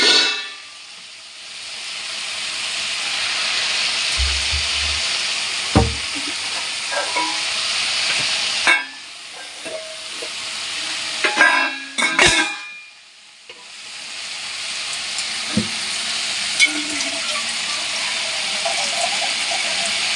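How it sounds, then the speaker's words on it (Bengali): Broccoli and egg curry sizzles and fries in a pan with near, continuous hiss broken by scraping stirs and brief clatters, including a short pause in the sizzle midway. "তারপর ভাজা হচ্ছে, তারপর কষা হচ্ছে"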